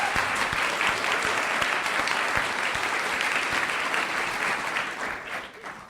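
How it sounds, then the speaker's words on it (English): Live audience breaks into sustained applause, a dense wash of many hands clapping at steady loudness before thinning slightly toward the end. "Please give yourselves a round of applause."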